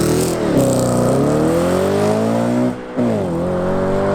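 Manual naturally aspirated V8 Audi RS4 on a drag run, its engine loud and close as it climbs steadily through the revs, dips briefly for a gear change, then pulls hard again.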